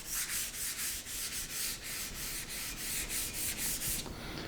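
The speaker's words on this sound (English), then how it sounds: "what I'm going to do is I'm just going to take and lightly sand, and this is 600 grit." Fine 600-grit sandpaper on a hard interface pad lightly sands a guitar's finish, giving a steady run of close, brisk rubbing strokes in an even back-and-forth rhythm that ends abruptly near the close.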